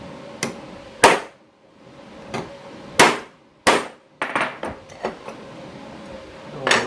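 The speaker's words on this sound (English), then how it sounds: "I'm gonna use it to drive out the old bushing" Hammer blows drive an old bushing out of a 1975 Chevrolet C20 truck, a series of sharp metallic strikes, loud and close, irregularly spaced with short pauses between single hits and quick clusters.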